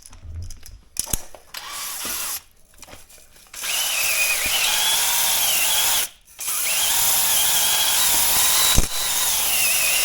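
A power drill drives a hone inside a cylinder bore of a 2.3 V6 engine being rebuilt, whining loudly in long, steady bursts with brief pauses between runs and no talk.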